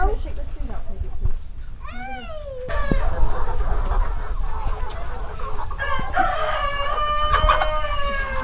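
Chickens on a Thai farm cluck and crow repeatedly, a rooster's crow standing out among overlapping bird calls, while people talk nearby.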